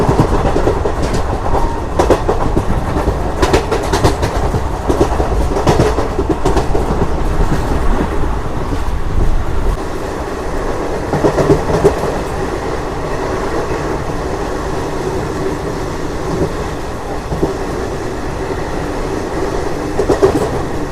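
A train rumbles steadily along the rails with a continuous clattering roll, loud and close throughout, easing slightly in the second half.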